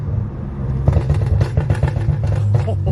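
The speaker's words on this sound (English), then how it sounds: "These pops are crazy." Exhaust pops from a BMW F80 M3 with catless downpipes, a quick irregular string of sharp crackles and bangs over a low engine rumble, heard from inside the car.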